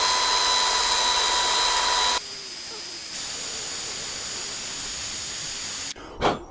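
A grinder with a coarse grit disc works rust off a Keeway RKF 125 motorbike during a full service, a loud continuous hissing grind up close that changes pitch partway through and then stops with a brief clunk.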